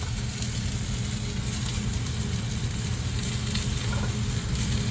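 Garlic and shallots sizzle steadily in a hot pan while filet mignon is cooked, a continuous crackling hiss at close range with no talking.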